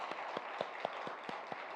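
A church congregation claps together in thanks after an afternoon worship service, a steady patter of hands with sharper individual claps standing out at a regular pace, moderately distant and unbroken throughout.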